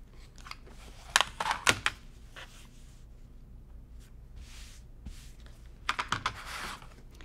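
Scissors or a rotary cutter trim quilting fabric for a cross stitch pillow, making quiet clicks and snips. A cluster of cuts comes early, then a pause, then another burst near the end, all close and alone.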